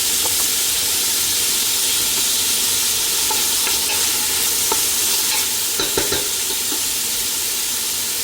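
Celery stir-fries loudly in a hot pan for pancit canton, a dense, steady sizzle and hiss with scattered spatula scrapes and clicks throughout, close and unbroken by speech.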